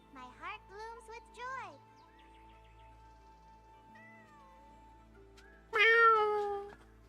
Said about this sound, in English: I heard your meow.